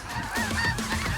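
Snow geese honk loudly and continuously in a dense flock overhead during a waterfowl hunt in Saskatchewan, Canada, a busy chorus of overlapping calls with no talk.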